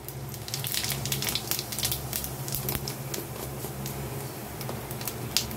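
Whole cumin seeds sizzle steadily in hot white oil while tempering for a Bengali kochu ghonto, a close, continuous crackling fry with small spattering pops throughout.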